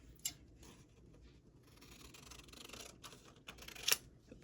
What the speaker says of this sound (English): Let's use my scissors.